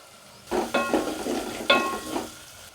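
Whole spices for tempering sputter and crackle in hot oil in a pan, with onions and red chilli going in for a jaggery rasam; bursts of sizzling rise and fall over a few seconds, close and fairly loud, with no talk.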